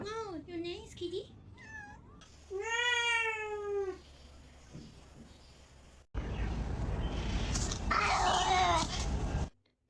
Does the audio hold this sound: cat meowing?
yes